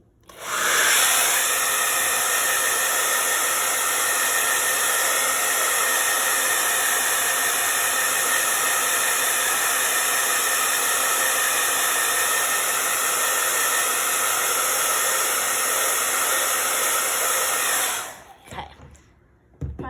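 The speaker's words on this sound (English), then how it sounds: "I am going to just hit it with my blow dryer." A blow dryer runs steadily and loudly with a constant whooshing hiss, then cuts off near the end.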